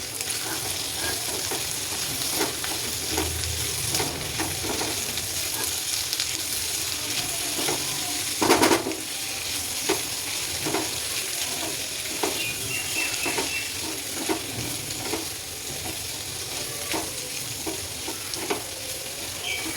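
Karela (bitter gourd) sabzi being stirred in a pan with chilli powder, turmeric and salt, a steady soft sizzle under repeated scraping strokes of a spoon, with one louder clatter midway; no talking.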